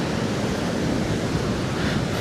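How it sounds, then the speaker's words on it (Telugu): Strong wind buffets the microphone on a rocky beach between Gokarna and Kumta, a continuous loud rushing roar with surf-like wash, with no voices heard. "గాలి మాత్రం బాగా వస్తుంది."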